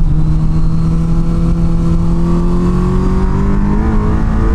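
A Suzuki Hayabusa motorcycle at a track day, its engine droning loud and close with a steady pitch that slowly rises, as if pulling through a gear, with no voices over it.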